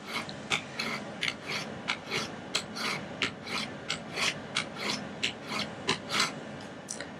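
A knife blade stroked repeatedly across a 600 grit sharpening stone, giving steady rhythmic rasping passes about twice a second, close and clear with no talk.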